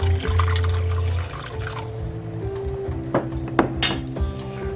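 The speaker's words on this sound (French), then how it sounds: "OK, moi j'ai metté 2 cups d'eau." Water runs steadily into a metal pot for Haitian millet porridge, a continuous pour with clinks and small splashes of the pot and utensils near the microphone, no voices.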